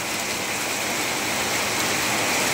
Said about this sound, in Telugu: వర్షం మాత్రం బీభత్సంగా పడుతుందో.